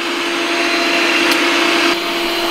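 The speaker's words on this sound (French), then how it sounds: "on va voir en temps réel, bah forcément, l'aspirateur se déplacer" A Yeedi Vac 2 Pro robot vacuum cleaner runs while moving across the floor, a loud steady motor whine with a constant tonal hum and brief scuffing, no talking.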